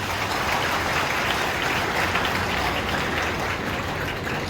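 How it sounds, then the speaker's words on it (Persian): Audience at a group wedding ceremony marking Eid al-Ghadir clapping steadily in a hall, a dense continuous wash of applause without pauses. "تشویق بفرمایید دوستان."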